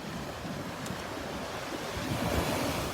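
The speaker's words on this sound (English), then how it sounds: "Look at those waves piling up out there." Steady, full roar of ocean waves breaking over a sandbar along a beach, continuous surf with wind buffeting the microphone and no voices.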